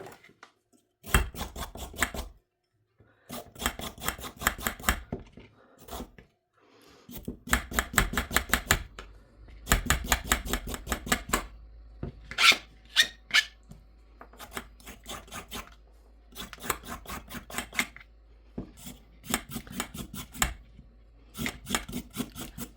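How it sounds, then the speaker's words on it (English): Carrots being peeled very quickly with a peeler, a rapid run of close scraping strokes in bursts separated by brief pauses, with no talking. "I'm going to peel my carrots."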